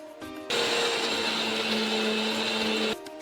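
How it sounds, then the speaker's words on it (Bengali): A mixer grinder pulverizes biscuits into powder, starting after a short pause with a loud, steady whirring roar for about two and a half seconds before cutting out, with no talking. "এই মিক্সারে গ্রাইন্ড করে নেব এই বিস্কিটগুলোকে"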